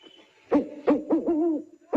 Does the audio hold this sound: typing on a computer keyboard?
no